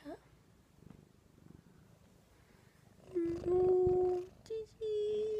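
A cat purrs softly and steadily in a quiet room, then a person's voice breaks in with louder, sustained tones that cover the purring.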